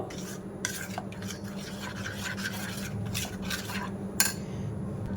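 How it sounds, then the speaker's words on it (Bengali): Semolina batter being stirred with water in a bowl, a steady scraping swish of spoon against the bowl's sides with a few sharper clinks, close and continuous with no talk. "জল দিয়ে এবার একটু গুলে নেব ভালো করে, একদম হালকা করে নেব।"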